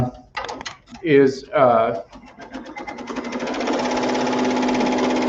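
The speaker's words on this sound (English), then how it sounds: "the machine is now sewing this border" An embroidery sewing machine stitching an applique border outline starts up after a few clicks and beeps, then settles into a steady, close mechanical whirr with a rapid repeating stitch rhythm; no voice is heard.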